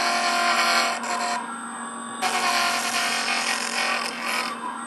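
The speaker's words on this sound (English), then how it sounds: "Now for any sharp corners that might arise, I like to smooth it off, like trim it a little." Opal is smoothed at its sharp corners on a Jooltool X polisher, giving a loud continuous whirring grind with a steady motor tone that dips briefly as the stone is lifted and pressed again.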